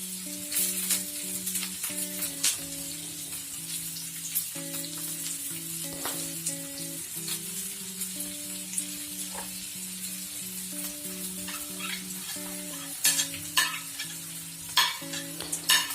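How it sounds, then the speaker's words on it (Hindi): Spices, cut vegetables and tomatoes roast in a pan for egg curry, giving a steady sizzle with scraping and stirring clatter throughout and a few sharper utensil knocks near the end. "तो जितनी भी चीज़ें मैंने दिखाई थी प्लेट में वो सब आपको रोस्ट कर लेना है।"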